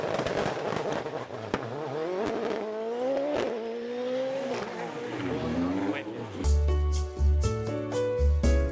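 A K20 turbo race car engine revving, rising and falling pitch sweeps building toward a loud roaring burst at the end, with a voice and crowd-like noise around it.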